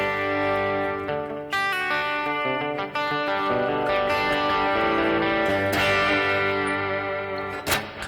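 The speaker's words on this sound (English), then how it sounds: "Kind of washy with that delay and that reverb." Clean electric guitar notes from a clean amp channel ring out with a washy delay and reverb tail, chords and single notes blurring into lingering echoes.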